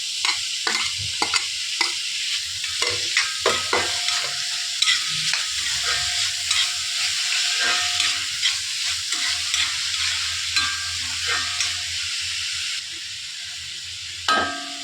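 Chopped tomatoes fry and are stirred in a chicken curry masala, giving a steady close sizzle with repeated scraping stirs of a spoon against the pan, no voices.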